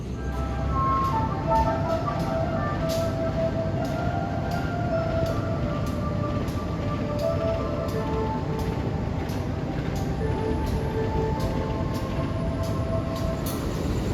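Kaligung passenger train passing in Indonesia at night, a steady loud rumble with faint rhythmic clicking of wheels over rail joints throughout.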